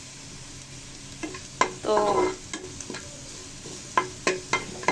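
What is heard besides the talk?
frying chopped onion and garlic in a pan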